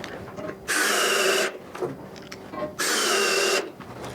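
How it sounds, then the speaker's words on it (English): A power screwdriver driving fasteners into a saw rail and strut assembly, two short whirring bursts separated by quiet handling clicks, close and fairly loud. "Get them close with the screwdriver, then we snug them up by hand because we don't want to over torque."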